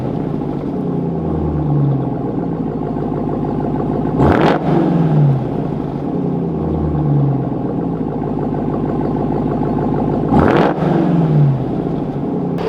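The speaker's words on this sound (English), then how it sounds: "let's include a clip of the TRX exhaust" A Ram TRX truck fitted with an AWE exhaust idles with a deep, burbling rumble, broken by two sharp, loud revs several seconds apart that each drop straight back to idle.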